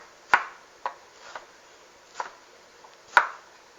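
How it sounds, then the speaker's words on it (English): Ginger is chopped with a knife on a cutting board in a series of crisp, close knocks, five or six uneven strikes with short pauses between them, in a quiet room. "then what you do is you chop the remaining ginger"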